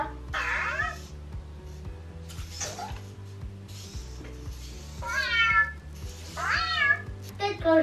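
A Cozmo toy robot gives a series of high, sliding electronic cat-like meows, several short mewing calls spread across the moment, close and clear with faint background hum.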